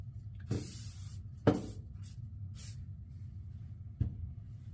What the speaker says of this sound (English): I'm going to spray this handle down so it has some protection from salt water